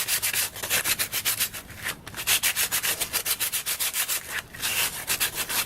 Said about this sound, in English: I just grabbed me some regular sanding paper, and I'm just going to sand my corners